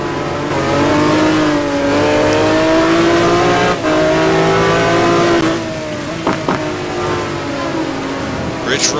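An onboard McLaren F1 GT1 race car at Mugello, its engine loud and close, droning through rising and falling revs with gear shifts, easing off briefly before pulling again.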